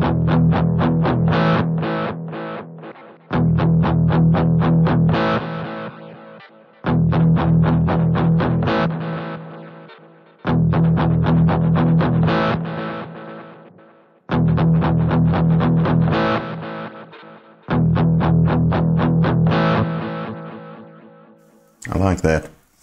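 A guitar played through a Boss GT-1000 with a bin echo delay effect strikes repeated distorted chord phrases, each trailing off into fading echo repeats before the next loud attack.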